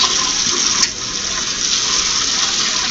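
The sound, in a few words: washing hands under running kitchen tap water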